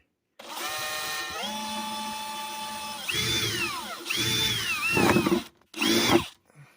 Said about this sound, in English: Let's drill a hole right here.